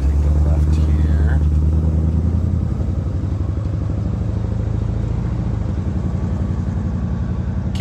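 A 1963 Chevrolet Impala SS driving and turning left, its engine a loud, steady low rumble with a rhythmic throb heard from inside the car, while a person talks over it.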